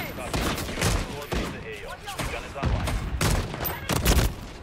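Rapid gunfire from a Call of Duty Modern Warfare III match, with sniper rifle shots among loud overlapping bursts and booms in a dense, continuous barrage, while a player talks over it.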